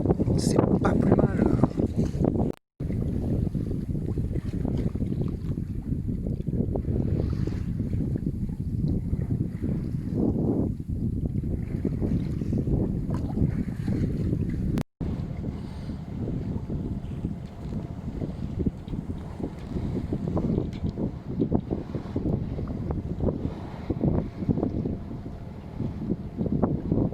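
A sailboat off La Ciotat moving at about four and a half knots under sail with the engine off, giving steady wind and water rush with buffeting on the microphone throughout and speech running over it.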